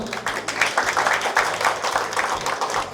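Audience applause at a film launch event for Marivillin Gopurangal, a dense sustained clapping from a crowd that fills the whole stretch at steady loudness with no talk over it.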